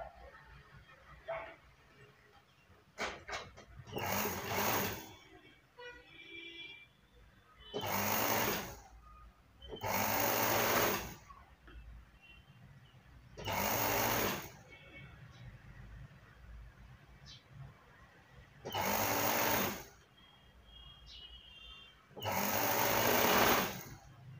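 An electric sewing machine stitching a blouse in six separate loud whirring bursts of a few seconds each, close by, with quiet pauses and some soft talk between runs.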